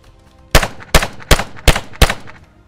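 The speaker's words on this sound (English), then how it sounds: "As soon as you bring a gun on target and you see the sight on there, start shooting." Five sharp handgun shots fired at a target during a natural-action shooting-stance drill, evenly spaced about a third of a second apart, loud and close with short echoing tails and no talk.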